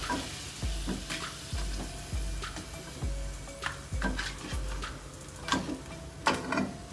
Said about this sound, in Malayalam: ഇതുപോലെ വറുത്തെടുക്കണേ